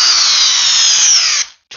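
A DeWalt D709 cordless drill on a fully charged 5 Ah battery whines loud and close under a torque test for about a second and a half, then stops abruptly. A faint noise follows after a short gap.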